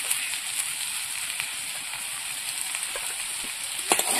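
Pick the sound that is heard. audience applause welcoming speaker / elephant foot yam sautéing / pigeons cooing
elephant foot yam sautéing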